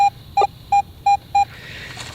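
A Garrett AT Pro metal detector sounds its target tone over a find in Florida: five short, evenly spaced electronic beeps, close and clear, followed by a faint hiss.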